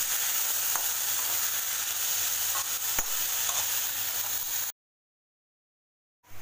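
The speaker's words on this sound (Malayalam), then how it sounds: "ഇനി നമുക്കിതിലേക്ക് വാഴയ്ക്ക ഇട്ട് കൊടുക്കാം. എല്ലാം അവിടെ ഒന്ന് ഇളക്കി യോജിപ്പിക്കാം." Raw plantain pieces frying and being stirred in a pan for a Kerala mezhukkupuratti: a steady close sizzle with faint scraping of the spoon, then a sudden silence near the end before the sizzle briefly returns.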